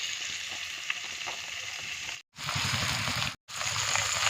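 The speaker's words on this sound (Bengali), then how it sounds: "এই যে মাছগুলো ভাজা হচ্ছে" Bata fish frying over a wood fire outdoors, a soft, steady sizzle of oil with light crackles, broken by two short gaps of silence.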